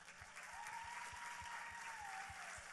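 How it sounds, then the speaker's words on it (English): Steady, dense applause from an audience at the Mrs. International 2017 pageant finals, continuous clapping filling the whole stretch at an even level. "how about a big round of applause for Suzanne Huddleston?"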